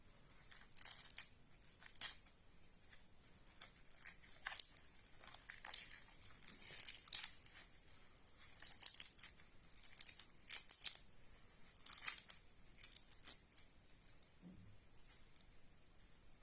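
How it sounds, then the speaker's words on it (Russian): Plastic film packaging wrapped around a Finnish puukko hunting knife is torn and pulled open, giving quiet, crackling, crinkly rustles in irregular bursts, close and soft. "Упакована в пленочку. Сейчас мы ее откроем."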